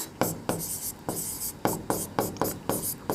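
Pen strokes of a maths solution being written by hand on paper, a close run of about nine short scratching strokes in quick uneven rhythm, with no talking over them.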